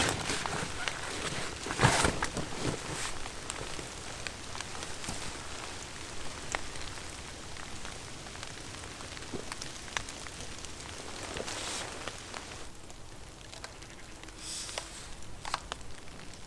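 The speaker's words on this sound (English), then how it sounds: "Raindrops on the camera and all that" Steady rain falls through a damp ancient woodland, a dense, even patter of drops on leaves and surfaces with occasional louder close splashes, continuous throughout with no one talking.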